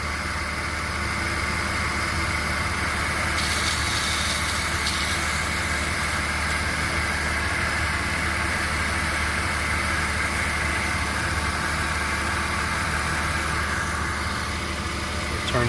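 A 2000 Porsche Boxster 2.7 engine idling with a noise from somewhere along the serpentine belt: a steady, continuous close-up hum and whir with a faint high whine throughout, unchanging for the whole stretch.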